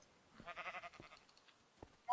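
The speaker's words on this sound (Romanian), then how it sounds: "Uite o vacă! Omor vaca pentru mâncare și pentru piele." A video game cow in a Minecraft-style Hunger Games match gives a short lowing, bleat-like call, followed by faint clicks and a sharp sound at the end.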